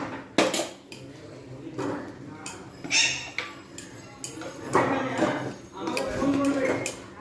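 A spoon stirs Bengali bhog khichuri with vegetables and ghee in a cooking pot, giving repeated scraping clinks against the metal at an uneven rhythm, close and moderately loud, with occasional kitchen knocks and low background noise.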